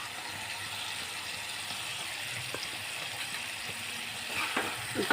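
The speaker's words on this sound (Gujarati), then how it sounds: "હવે આપણી ડુંગળી સડી ગઈ છે હવે આપણે આમાં નાખી દઈશું ટમેટા" Chopped onions fry softly in a pan as tomatoes are added, a low steady sizzle with a few faint clicks and a slightly louder stir toward the end, with no talking.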